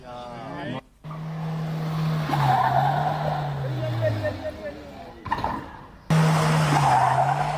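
A Mahindra Thar SUV driven on two wheels in a road stunt, with loud, sustained tire squeal and skidding, an engine revving underneath and two brief breaks, heard over a news presenter talking.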